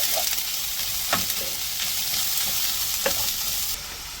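Mangalorean-style mussel sukka with onion cooks on a high flame, a constant close sizzle broken by occasional spoon taps and scrapes against the pan.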